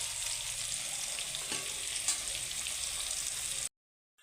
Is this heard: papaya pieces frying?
yes